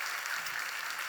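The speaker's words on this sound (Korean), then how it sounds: "우리 환영하며 박수하겠습니다." Church congregation applauding in welcome, a brief, soft, steady patter of many hands clapping at a distance.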